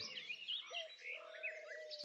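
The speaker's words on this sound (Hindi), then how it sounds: "ये आवाज पक्षी जैसी है।" A bird calls in a cartoon forest, a quick series of bright chirps and tweets with a thin sustained whistle, faint and alone.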